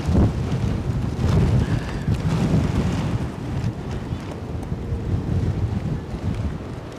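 Strong gusty wind buffeting the microphone at Edinburgh airport, a steady roaring rush with surging gusts throughout and no talk.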